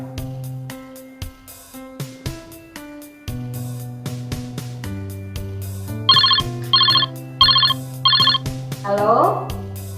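A telephone rings on an outgoing call as four short, bright, evenly spaced ring bursts, loud and close, following tonal background music.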